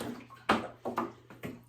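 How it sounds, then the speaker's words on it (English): Water sloshes inside a container, coming in several soft, uneven bursts of splashing and gurgling that are faint and close. "That's just the water in there moving."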